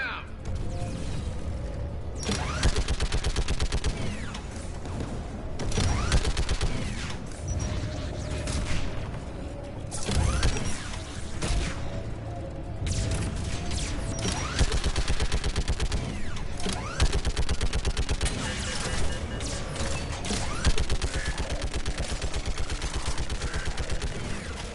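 Turret gunfire in Mass Effect 3 Legendary Edition, a dense near-continuous stream of rapid shots with booming impacts and mechanical clatter, sustained and loud for the whole stretch with brief voice lines mixed in.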